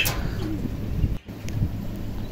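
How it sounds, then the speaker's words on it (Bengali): Low, soft cooing from a pair of pigeons kept for sale, a couple of brief murmuring calls close by over steady background hiss. "চমৎকার এক জোড়া কবুতর, ভালো লাগলে অবশ্যই সংগ্রহ করবেন"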